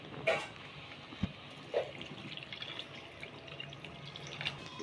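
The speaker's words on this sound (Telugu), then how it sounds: "ఇందులో వాటర్ పోసుకొని కుక్ చేసుకోవాలి" Water poured into mashed potato and carrot for pav bhaji, with a few close splashes and drips over a quiet steady background, no voices.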